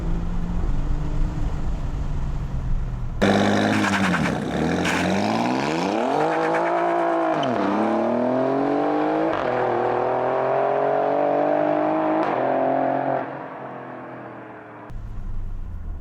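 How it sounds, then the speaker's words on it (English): An Alfa Romeo Giulia Quadrifoglio launches hard from a standstill, engine revving up through several rising gear pulls with sharp shifts between them, loud and close from inside, then easing off at the end. "I want to give you guys a little acceleration launch to show what it's like."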